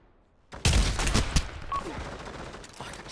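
Rapid gunfire from the Pavlov VR shooter game crackles in a loud, dense burst that starts abruptly and keeps rattling with mechanical clatter to the end.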